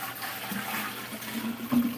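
Reverse osmosis water splashing and pouring into a bucket, a continuous close rushing gurgle that swells briefly near the end.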